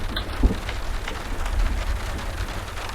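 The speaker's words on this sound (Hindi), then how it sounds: "बारिश होने वाली है" Rain falls steadily in a dramatized horror scene, a soft continuous patter with a low rumble beneath, and no voices.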